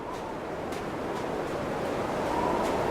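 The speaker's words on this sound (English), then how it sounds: "You can hear the wind blowing from inside the house." Wind blows steadily outside a house in the video game The Long Dark, a broad, muffled whoosh with gentle swells, heard from indoors at a moderate level with no talk.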